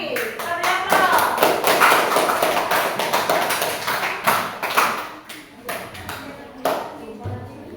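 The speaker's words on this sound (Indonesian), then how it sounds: "Kita beri aplaus." Classroom applause for a student group in a seventh-grade algebra lesson at an Indonesian junior high school, a dense burst of many hands clapping that fades gradually.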